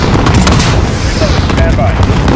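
Explosions and gunfire roar in Call of Duty: Modern Warfare, a dense, continuous barrage of booms and bursts with game radio chatter speaking over it.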